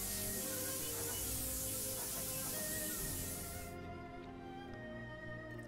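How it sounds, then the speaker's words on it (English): A spray gun applies 2K lacquer to a restored lawnmower, a faint continuous hiss of spraying that stops partway through, leaving quiet background hum. "all I'm doing here is literally putting on my lacquer, which is a 2K lacquer"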